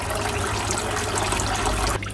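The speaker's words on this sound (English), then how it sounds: "So I thought I'll drain most of the water out and just tip them in." Water pours out in a continuous gush as baby koi are tipped from a container into a newly built pond, close and steady before cutting off.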